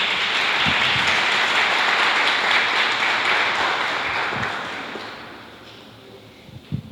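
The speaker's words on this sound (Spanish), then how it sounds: "Un aplauso a la maestra María Fernanda Matos." Audience applause at a catalogue presentation, a dense steady patter of many hands that fades out over several seconds, leaving a few scattered claps and quiet room noise at the end.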